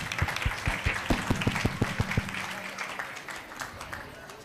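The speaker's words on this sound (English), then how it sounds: "Let's give them a round of applause" Applause from the audience at a Sunday school annual day celebration, a run of sharp individual claps near the start, then a softer spread of clapping from the crowd that tails off.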